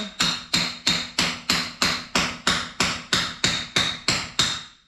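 Hammer striking a wall to open a chimney hole in a village house under construction, thirteen sharp evenly spaced blows about every 0.38 seconds, loud and close with short ringing decays and no talk.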